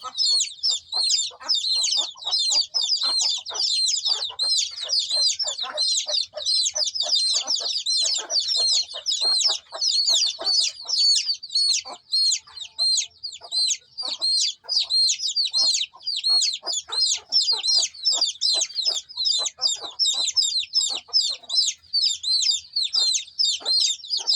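Twenty-one-day-old hens in a small flock cluck and chirp densely and continuously up close, a busy, overlapping chatter of rapid calls that runs without pause and with no one speaking.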